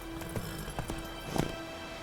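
A horse's hooves clip-clopping at a steady trot in the video game Witcher 3, faint and rhythmic over a low steady background hum.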